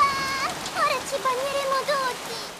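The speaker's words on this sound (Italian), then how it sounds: "Comincia a piovere." A cartoon rain effect begins, a soft pattering wash mixed with light chirpy tones, fairly even and steady.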